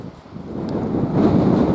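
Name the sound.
wind blowing on golf course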